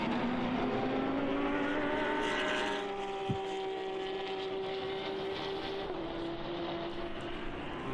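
Race cars, including Porsche 992 Cup and BMW entries, drive by on the Red Bull Ring in an endurance race, with a loud engine roar that falls to a steady distant drone as the cars pull away.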